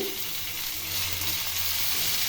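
Spice paste of chili, tomato, onion, ginger and coriander sizzles in a pan for a rohu fish curry, giving a loud, steady, close hiss with no talk over it.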